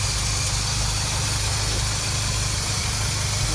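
An Autosleeper Transit camper van engine idles smoothly and steadily, a constant low rumble and hum heard close up with no voices.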